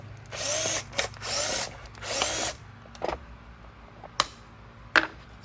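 A power drill spins out screws from the outer shroud of a Riccar Supralite vacuum cleaner during a teardown, in three close, loud whirring bursts, then a few short clicks and taps.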